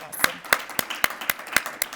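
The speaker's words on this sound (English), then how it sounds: "Let's give her a round of applause." Steady, evenly spaced hand claps ring out over a murmur of voices at a military change-of-command ceremony, sounding like a small group keeping time rather than a roaring crowd.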